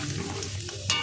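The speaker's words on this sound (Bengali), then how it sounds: "এই তেলের মধ্যে আমি কটা বাদাম ভেজে নেব" Raw peanuts in their skins fry in hot oil in a pan, giving a steady close sizzle with stirring scrapes and a brighter hiss near the end.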